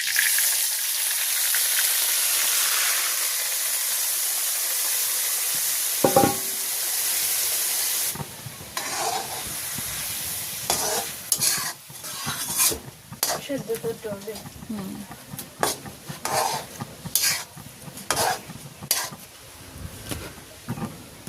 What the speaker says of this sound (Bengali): টুকরো করে দুটো তেজপাতা দিচ্ছি, দিয়ে দিচ্ছি চিংড়ি মাছটা।